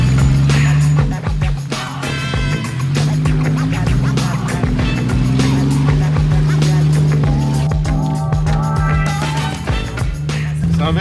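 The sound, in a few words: car engine revving through straight-through direct exhaust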